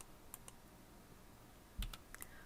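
Keys click on a computer keyboard in a quiet room, with a couple of light taps followed by a short burst of quick, soft keystrokes. The sound is close and faint, and no one is talking.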